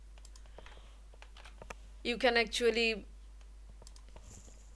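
Light, scattered clicks from keys pressed on a computer keyboard run through the background, with a short stretch of speech in the middle.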